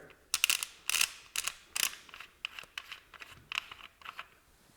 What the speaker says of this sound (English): The next step is to unscrew the top cap here.